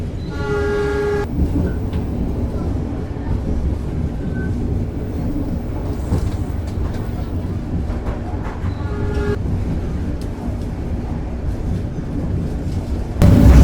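Pangrango executive-class train running on rails: a steady rumbling roll with clickety-clack over the tracks, heard from on board, opening with a short horn-like tonal blast and ending in a louder surge.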